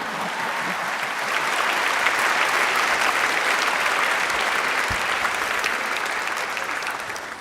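A large commencement audience at Seattle University School of Law applauds, the dense clapping swelling slightly and then holding as a loud, continuous wash before easing off at the end.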